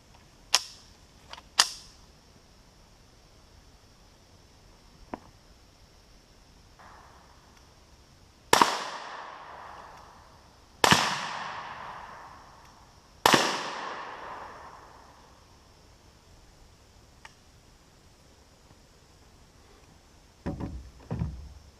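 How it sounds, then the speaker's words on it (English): Three loud .22LR shots from a Marlin Model 60 rifle fired in quick succession into ballistics gel outdoors, each a sharp crack with a ringing decay, preceded by a few fainter clicks and pops. "we're going to shoot 3 more rounds at this ballistics Jello, all at once"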